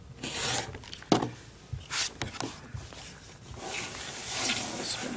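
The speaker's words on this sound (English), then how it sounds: "So let's just cut 5-inch squares first, and then I'll trim it down." Fabric being cut into 5-inch squares for quilting, with a rotary cutter or shears rasping and scraping in short close strokes, with light handling noises in between.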